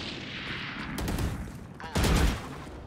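Rifle gunfire in the Valorant video game, fired through a wall: two short bursts of rapid shots about a second apart, loud and close over a steady background hum.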